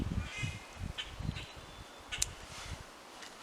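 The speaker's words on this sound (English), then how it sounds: "Oh, I love the birds singing." Wild birds call outdoors in spring, faint and distant, with scattered chirps and a few harsher caw-like notes over soft background noise, with no talking.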